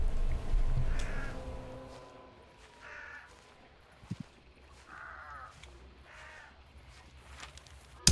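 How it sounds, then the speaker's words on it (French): Crows caw in Hunt: Showdown, a few harsh calls spaced roughly a second apart at moderate distance over a quiet outdoor ambience, with a brief soft thump midway. "Fais gaffe aux corbeaux et tout si tu peux."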